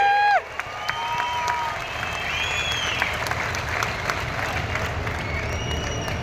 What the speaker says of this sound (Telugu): చప్పట్లు ఏ విధంగా మారిపోగాలో ఒక్కసారి మళ్ళా చేసి చూపించండి